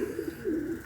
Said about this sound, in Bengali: আজকে কবুতরগুলো ছাড়লাম রাত্রে কইরা